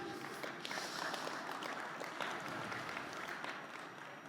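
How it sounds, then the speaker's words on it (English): Audience applause following a card trick at a conference magic performance, a steady wash of clapping from a seated crowd that holds at an even level for several seconds before tapering slightly. "So let's give Carrie a big round of applause."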